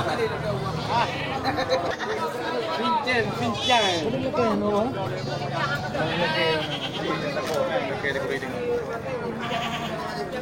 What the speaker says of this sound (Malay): Ya, ini untuk kambing betina ya, kambing betina punya bapak kita ini.